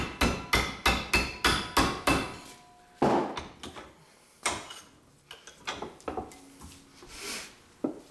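A hammer flattens metal for a concrete leaf, with about eight sharp, evenly spaced strikes in quick succession, then a few slower, lighter knocks and handling noises up close.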